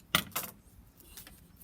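Blunt kitchen scissors snip through a plastic bag in two close, crinkly cuts, followed by a fainter rustle of plastic, all quiet and nearby with no talking.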